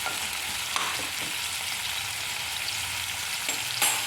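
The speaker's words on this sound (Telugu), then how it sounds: "ఆయిల్ వేడెక్కిన తర్వాత మనం ముందుగా కట్ చేసి పెట్టుకున్న ఆనియన్స్ వేసుకోవాలండి" Chopped onions sizzle loudly in hot oil in a pan, a dense continuous frying hiss with a few soft scrapes of stirring, close and without speech.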